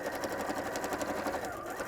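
A Janome 550 sewing machine stitches a quilt without a walking foot, a fast, steady mechanical whirring with rapid regular needle pulses, close and continuous.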